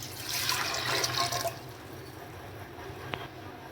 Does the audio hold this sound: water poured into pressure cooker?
yes